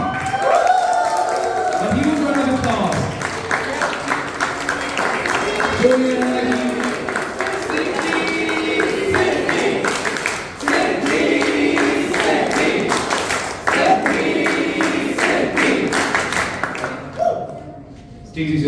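An audience at a corporate anniversary meeting claps and cheers to welcome a performer onto the stage, steady applause with crowd noise throughout, with a voice speaking over it.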